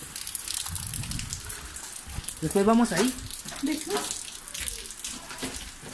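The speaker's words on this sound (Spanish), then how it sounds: "Espérense que está lloviendo" Rain pours down and water runs, a steady hissing wash that continues throughout, with people talking over it.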